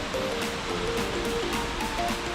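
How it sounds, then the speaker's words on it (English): A waterfall on a guided tour rushes in a steady, broad roar of falling water, continuous and fairly loud throughout with no voices over it. "just next to another waterfall"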